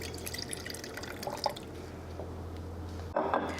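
Lemon juice poured for a salad dressing, a light trickling and dripping of liquid over a low steady hum, with a brief louder splash near the end.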